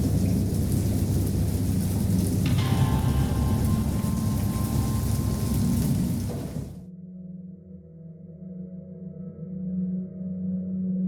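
Heavy, steady rain with deep rolling thunder, loud and close, then it abruptly drops to a quieter low rumble with softer rain, from the video game Dagon: H. P. Lovecraft.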